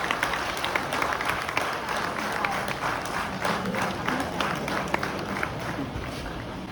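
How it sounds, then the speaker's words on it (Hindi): An audience claps and applauds at a college Teachers Day program, a dense, steady wash of clapping that lasts throughout, with faint crowd murmur underneath. "जोरदार तालियां"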